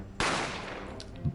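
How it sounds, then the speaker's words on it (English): A gunshot goes off in the game The Great Ace Attorney, one sharp loud blast that snaps in abruptly and then rings out into a long decaying tail, with a faint low thump near the end. "the sound of the gunshot"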